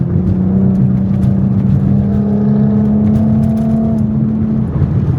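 An all-American muscle car engine with a rumbling exhaust drones steadily on a highway, a loud, sustained low growl with a strong steady tone that holds for several seconds before easing slightly.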